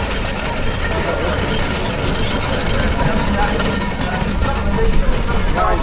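A single-cylinder steam traction engine runs in the arena at a Hellingly transport festival, a steady dense low rumble and chuffing mixed with outdoor crowd noise, loud and continuous.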